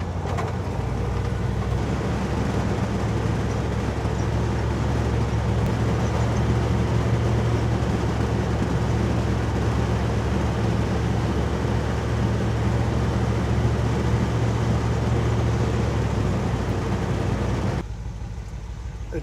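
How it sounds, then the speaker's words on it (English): A car fitted with a Chinese carburetor booster drives at about 40 mph, heard from inside as a loud, steady engine drone with road rumble that holds constant before dropping off abruptly near the end. "So let's just take it to up to 40 miles per hour and see what happens."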